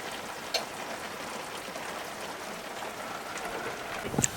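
Steady rain pattering on a sailboat at anchor, an even wash of drops with a couple of louder taps, close and constant, no voices.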